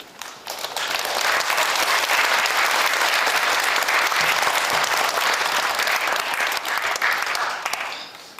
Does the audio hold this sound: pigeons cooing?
no